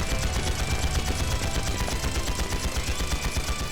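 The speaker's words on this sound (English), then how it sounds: "Return fire!" Sustained automatic gunfire rattles through a battle in a Trails series video game during an ambush by the Red Reaper, dense rapid bursts of shots close and loud with no pauses.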